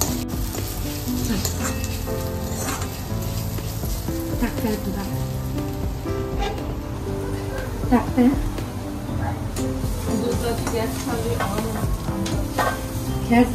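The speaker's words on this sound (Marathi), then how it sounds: "गोल्डन कलर टाईपचा येईपर्यंत तुपामध्ये हे करायचं, फ्राय करायचं।" Grated carrots fry in ghee in a pan, a steady close sizzle running throughout with occasional scraping stirs, while a voice talks over the cooking.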